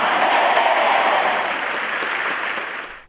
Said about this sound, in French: Un tonnerre d'applaudissements pour notre Dieu.